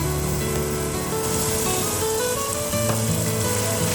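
Finely chopped mushrooms sizzling with garlic in a hot pan, a constant, even frying hiss with a faint hum underneath, no voices.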